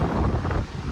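Cold wind near the Ganges on the road to Rishikesh buffets the microphone with a loud, rumbling roar that gusts steadily throughout.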